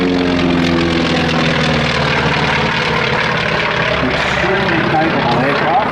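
Steady, loud propeller-aircraft engine drone at an outdoor car and airshow, holding constant for the whole stretch while an announcer talks over it.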